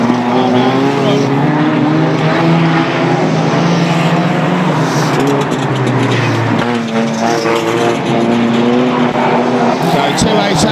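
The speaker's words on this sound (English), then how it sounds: "So 288 Eric Allen is your lead car" Race cars lapping at the Grimley season opener, engines droning steadily and loudly throughout with shifting pitch as cars pass, under continuous race commentary.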